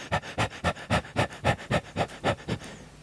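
A dog pants rapidly and steadily close to the microphone. About a dozen quick, even breaths come in a regular rhythm, with no talking.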